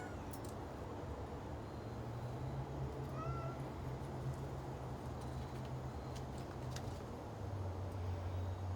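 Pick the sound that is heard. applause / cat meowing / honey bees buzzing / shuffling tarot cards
cat meowing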